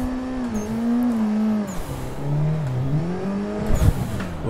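A 333hp Nissan 180SX engine revs hard while starting a drift, rising and dipping in pitch as the car shifts through the gears, close and loud, with a brief tire squeal near the end.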